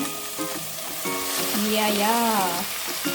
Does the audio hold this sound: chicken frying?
yes